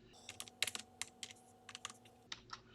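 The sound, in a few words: typing terminal commands on a computer keyboard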